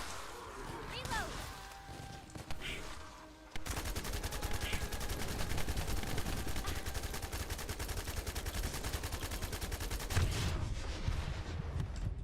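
Gunfire in the video game The First Descendant: after a quieter opening, a sustained stretch of rapid, steady automatic fire runs on for several seconds, with a voice heard over it.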